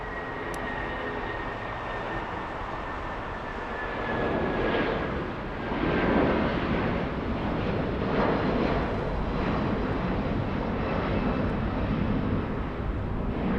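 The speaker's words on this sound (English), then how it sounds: "United Airlines 1981. That's a 757-200." A United Airlines Boeing 757-200 jet passes at Los Angeles airport with a steady, broad engine roar that swells midway and stays loud, set against open outdoor ambience with no talking.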